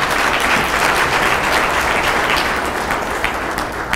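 Sustained audience applause at a Senate address, a dense steady wash of many hands clapping throughout, loud and close with no talk over it.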